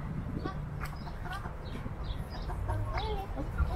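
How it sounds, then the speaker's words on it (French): Hens clucking in a farmyard, with a run of short, scattered calls over a steady low background hum. A few faint voices are also present. "Qu'est-ce qu'elles font les poules? Elles font cote-cote."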